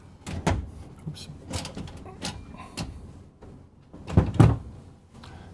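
Cabinet doors in the pantry of a Newmar Dutch Star 4369 motorhome open with a few short wooden thunks and knocks, the loudest near the end, in a quiet coach interior.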